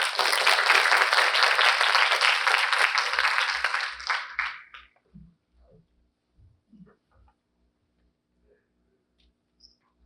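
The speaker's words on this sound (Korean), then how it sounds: "큰 박수로 맞이해 주십시오" Applause from a talk-concert audience greeting a guest speaker, a dense, even wash of clapping that fades out after about five seconds, leaving scattered soft thumps and a quiet room.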